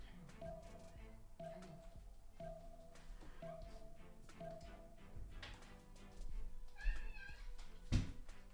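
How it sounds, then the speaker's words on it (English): A pet cat meows near a door, a run of short cries repeating at a steady pace, with faint thumps and a couple of louder knocks toward the end. "My cat was scratching at the door. He wanted in, so I had to let him in."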